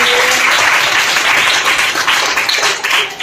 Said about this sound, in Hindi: बहुत अच्छा जवाब है, तालियां बजाइए।